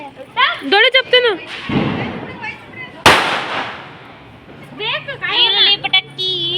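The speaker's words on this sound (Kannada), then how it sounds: "ಈರುಳ್ಳಿ ಪಟಾಕಿ, ಈರುಳ್ಳಿ" An onion bomb firecracker bursts during a home Diwali celebration, a single sharp bang midway through, with excited voices and children talking before and after it.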